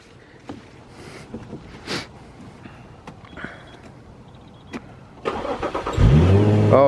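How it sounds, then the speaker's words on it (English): An Infiniti G35's engine cranks and starts after a new battery is fitted, with scattered clicks and small handling noises first, then a loud start that settles into a near, steady idle. "And then let's go start the car."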